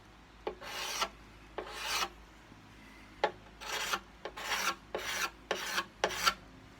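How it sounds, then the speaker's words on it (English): Cabinet scraper shaving excess finish off a guitar armrest to shape a bevel, about eight separate close rasping strokes in an uneven rhythm, each a short scratchy scrape, with no talking. "they don't have a nice bevel, and you just scrape it"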